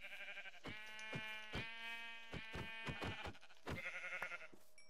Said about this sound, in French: Il est où l'autre mouton?